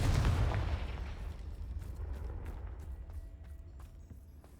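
A Confringo blasting spell explodes in the video game Hogwarts Legacy, opening with a heavy booming burst. Deep rumbling debris follows and fades over several seconds while scattered crackles ring out.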